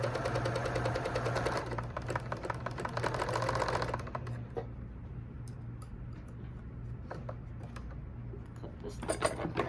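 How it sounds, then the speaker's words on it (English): Sewing machine stitching a burp cloth, a rapid steady ticking and whirring run up close for about four seconds, then quieter scattered clicks and handling of the fabric. "Make sure when you start sewing, you do a little back stitching."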